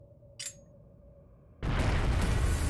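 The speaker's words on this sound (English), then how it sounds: "A bomb?" A bomb explodes in the video game Trails of Cold Steel, a sudden loud roaring blast that follows a short quiet stretch with a brief noise burst, then sustains as a dense rumble.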